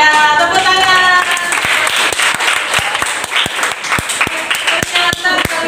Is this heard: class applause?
yes